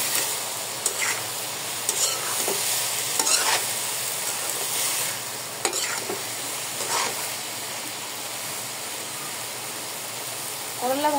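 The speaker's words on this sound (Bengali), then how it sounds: "তো এই যে এখানে আমি করলা ভাজিটা বসাই দিচ্ছি।" Bitter gourd frying in a pan gives a steady sizzle with intermittent stirring scrapes and clinks, close and moderately loud throughout, with no talk.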